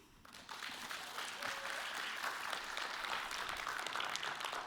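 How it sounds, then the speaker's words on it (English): Scattered applause from a small poetry-reading audience, a steady patter of hands clapping at moderate distance that starts abruptly and continues evenly without voices. "Scattered applause,"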